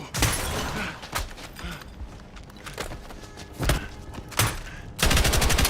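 Gunfire from the video game Battlefield 6 campaign: sharp gunshot cracks and bursts scattered over a noisy battle bed, ending in a loud rapid automatic stream, with no talking.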